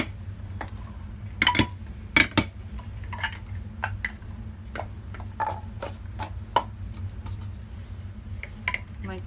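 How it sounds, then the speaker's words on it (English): Resin being mixed in a cup for mica-pigmented ceramic coasters, heard as scattered light clinks and taps of a stirrer against the container, irregular and close, over a low steady hum with no talking. "So I'm gonna get ready to mix my resin."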